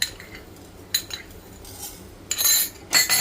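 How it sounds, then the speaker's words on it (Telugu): Coriander seeds and peanuts dry-roasting in a pan with no oil, heard as a few bursts of rattling, scraping clatter as they are stirred and tossed, separated by quieter stretches. "ఇవి కొంచెం బాగా దోరగా వేపుకోవాలండి."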